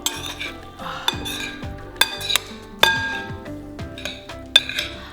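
Thai fried egg salad is tossed in a bowl, with utensils scraping and bright clinks of cutlery against dishes in an uneven rhythm, up close and without speech.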